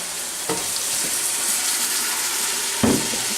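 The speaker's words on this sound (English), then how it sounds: "just scraping the fond off the bottom of the pan again" Stock sizzles in a gumbo pan while a utensil scrapes fond off the bottom, a steady hiss broken by a few sharp scraping strokes, no voices.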